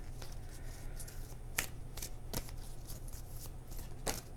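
Tarot cards are shuffled by hand, with a soft continuous riffling broken by several sharp snapping flicks, close and fairly quiet.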